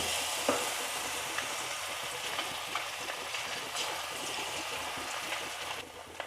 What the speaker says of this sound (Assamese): এয়া চাওকচোন তেল গৰম হৈছে আৰু মই বেচনত লগাই দিয়া কণী ফাল এনেদৰে দি দিলো